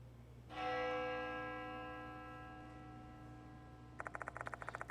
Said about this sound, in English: The sound of a bell echoes in my ears.